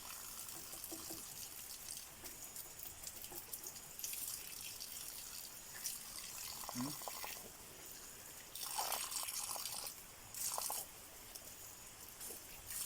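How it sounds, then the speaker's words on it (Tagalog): Water trickles and splashes into a tank during a supply outage from a nearly clogged line, a weak, steady flow with brief louder gushes, heard close up. "ito yung tubig na pumapasok doon sa tangke"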